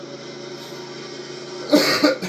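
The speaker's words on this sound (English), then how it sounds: "Had to cough out my frustration" A single short cough from a person during a racing game session, a brief burst near the end over a steady background hum.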